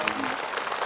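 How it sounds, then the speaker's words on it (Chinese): Studio audience clapping to send a small child off stage on a children's variety show, a brief, dense burst of applause with voices mixed in. "掌声欢送一下，这太可爱了！"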